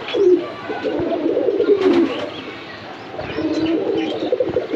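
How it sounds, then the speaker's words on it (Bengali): Pigeons coo inside a home pigeon farm, a mix of Satin and cross-bred birds: several close, throaty rolling coos overlap in bursts, with light rustling and no talking. "এটা হচ্ছে আমার কবুতরের খামার"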